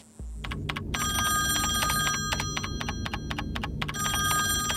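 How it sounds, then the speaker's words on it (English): A telephone rings in the adventure video game Nibiru: Age of Secrets, a bright electronic bell trilling in repeated bursts over a steady low ambient hum, with no speech. "Hey guy, answer your phone."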